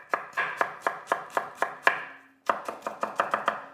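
A knife chopping peeled white onions on a board in quick, even strokes, about a dozen sharp close cuts with a brief pause midway before the steady rhythm resumes.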